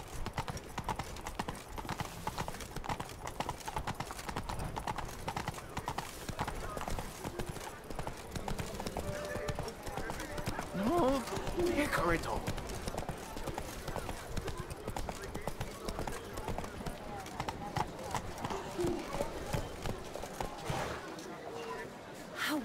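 Roach, the horse in The Witcher 3, gallops with a rapid, continuous clip-clop of hooves, joined by game voices and a brief whinny partway through.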